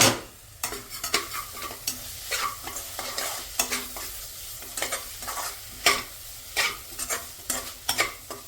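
Onion sabzi sizzling and frying in a pan, with a spoon stirring it in repeated scraping strokes that stand out as sharp bursts over a steady frying hiss, close and fairly loud with no voices.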